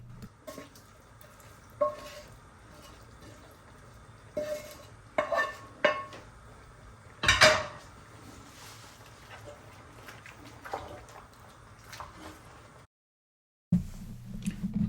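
Mutton on the bone curry with spices and onions being stirred in a pot: scattered scrapes and clinks of a spoon against metal over a soft sizzle, quiet and close, with a brief silent gap near the end.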